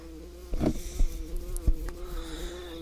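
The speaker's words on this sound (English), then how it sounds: "Buzzing sound." Buzzing insect-like drone in the EquestriaBound video game, a quiet low hum with a few soft thumps and brief swells, heard alone.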